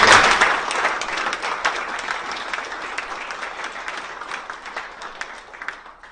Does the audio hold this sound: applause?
yes